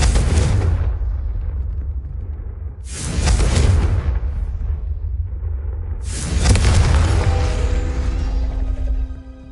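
Three loud fire-spell explosions in the Hogwarts Legacy video game, each a sharp booming burst that decays over a couple of seconds, spaced about three seconds apart with no talk.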